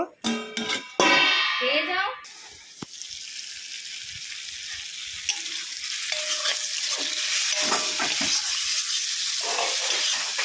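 Ripe pointed gourd (potol) frying in a pan, a steady sizzling hiss after a few sharp scraping stirs at the start, with a voice speaking briefly over the cooking.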